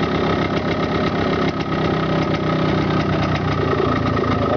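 Warm motorcycle or small car engine idling steadily during carburetor adjustment with the air screw turned in, a continuous mid-pitched drone with slight wavering, close and alone.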